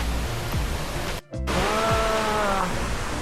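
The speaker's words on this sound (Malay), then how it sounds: "Air terjun." A waterfall on a motorcycle ride route in Sumatra gives a broad, steady rushing roar throughout, interrupted by a brief dropout, with faint wavering tones over the wash; no clear talking.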